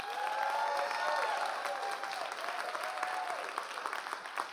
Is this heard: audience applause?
yes